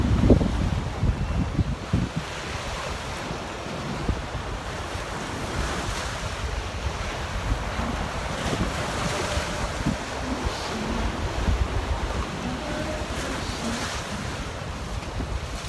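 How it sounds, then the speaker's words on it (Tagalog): Strong sea waves break and surge on a shore at dusk on a windy day, a continuous roar of surf with wind buffeting the microphone throughout and no talking. "Sa dagat, ang lakas ng alon."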